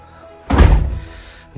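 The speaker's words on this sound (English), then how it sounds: "And close that door." A house's front door is pushed shut, one solid, close thunk that rings out briefly before quiet returns.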